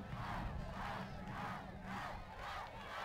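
A high school football crowd at la Joya Palmview versus PSJA Memorial chants in a rhythmic, repeated call for a touchdown, a steady massed roar of voices pulsing about every half second, heard from a distance.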